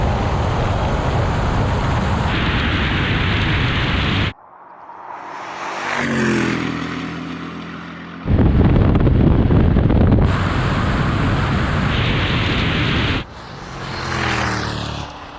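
Bentley GT and Audi RS5 drag racing, loud roaring engine and wind rush in long bursts, broken by quieter stretches as the cars launch and pass.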